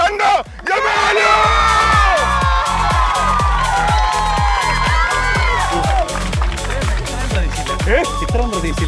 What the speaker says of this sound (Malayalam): 3ാം സമ്മാനത്തിന് കൈയടി കാണണോ?